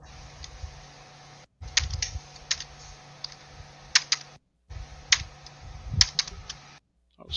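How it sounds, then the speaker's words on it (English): Close, quick clicking of keys typed in irregular bursts, with brief pauses between runs of keystrokes. "Oh, Steve's typing away"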